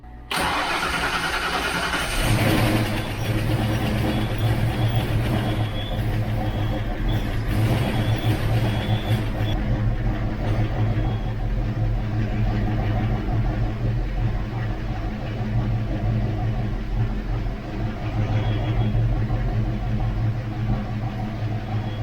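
A Ford Mustang Foxbody engine, just back together after a lifter repair, cranks and catches after a couple of seconds, then settles into a loud, steady, slightly rough idle that runs on close by with no talk.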